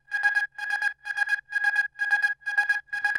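Hover synth layer from a remix with slide processing, chopped into seven even rhythmic pulses that repeat in a steady gated pattern.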